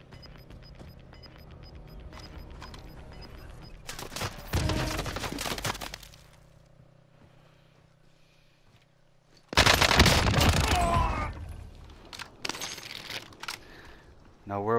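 Gunfire in Call of Duty: Modern Warfare, arriving in two loud dense bursts of rapid shots separated by quieter stretches of game ambience, with a voice talking over the quieter parts.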